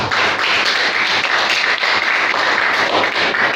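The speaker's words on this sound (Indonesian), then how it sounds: "Tepuk tangan untuk Tuhan." A church congregation claps in praise to God during a sermon, producing a dense, steady wash of many hands that stays loud and even for the whole stretch without pause.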